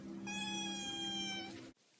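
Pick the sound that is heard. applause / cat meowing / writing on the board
cat meowing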